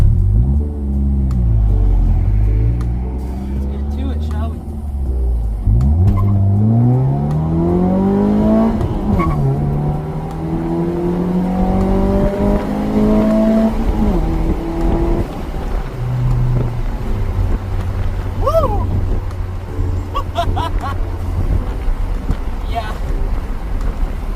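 A Mazda 3 engine revs and climbs hard through several rising gears from a launch, each upshift dropping the pitch before it winds up again, then settles into a steady drone.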